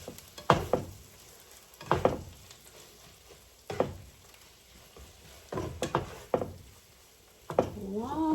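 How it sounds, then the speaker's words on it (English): Ginger is stirred into onions frying in a pan, with about five close, rhythmic scraping strokes over a faint, low sizzle. "We're gonna mix that into our onions."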